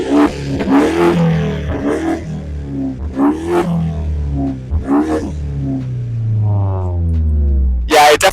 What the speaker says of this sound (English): This now has a valved exhaust.